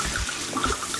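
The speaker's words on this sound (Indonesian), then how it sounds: "Lalu tuang anggur" Wine is poured into a hot pan of fried onions for a lasagna sauce, giving a brief splashing liquid gurgle with bubbling over a faint sizzle, close and moderately loud, with no talking.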